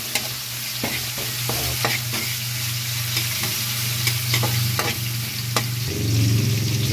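Tilapia frying in a pan of oil, a constant loud crackling sizzle with scraping stirs and clinks of a utensil against the pan, close up and with no voices.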